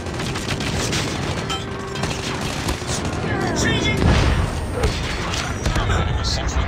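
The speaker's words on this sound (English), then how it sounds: "Friendly airstrike incoming." Airstrike blasts and gunfire in Call of Duty Mobile, a dense ongoing barrage of booms and shots under radio-style game voice callouts.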